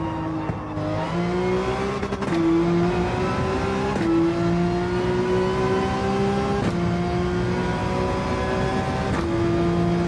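Porsche 911 engine in Gran Turismo 7, driven at the Nürburgring, revving hard and climbing through gears with steady rising whine and several shift breaks, loud and continuous with no talk.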